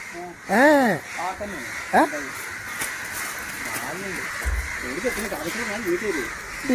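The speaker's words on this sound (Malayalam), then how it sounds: "അതാ കാക്കച്ച കുട്ടികൾ കേട്ടാ" Crow chicks caw in a series of harsh, rising-falling calls, several loud and close near the start, then quieter overlapping calls later, over steady outdoor background hiss.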